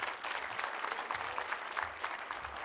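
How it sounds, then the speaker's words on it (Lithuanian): A talk-show audience applauds to welcome a guest, with steady, full clapping from a crowd filling the whole moment at even strength. "Pasitikime plojimais."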